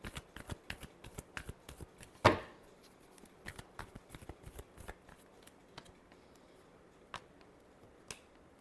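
Tarot cards are shuffled by hand in a quiet room, a run of soft riffling flicks and taps with one sharp snap, then a few scattered clicks as the deck settles.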